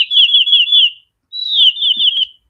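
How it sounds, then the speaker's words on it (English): A recorded bird song used as a sprint timer alarm: two clear whistled phrases of rapid trilling notes separated by a short pause, loud and close with nothing else around. "my sprint sound ending is a bird song"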